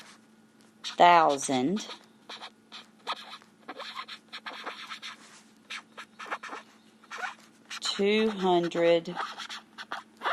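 A pen scratching out numbers by hand, close and crisp strokes in irregular bursts, with a person speaking in short phrases at the start and again near the end.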